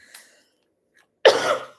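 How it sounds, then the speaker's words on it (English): A single harsh, loud cough burst near the microphone, preceded by a faint short throat sound, with silence between. "I'm coughing so much"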